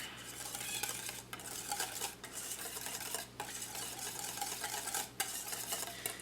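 Hollandaise sauce being stirred after two dashes of hot sauce go in: a steady, close scrape of utensil against bowl, continuing for several seconds with a few brief pauses.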